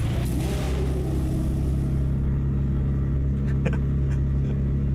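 A Ferrari engine fires up in the Automobilista 2 racing game, a loud steady low rumble that settles into a deep idle, with a few brief higher mechanical blips near the end and no talk.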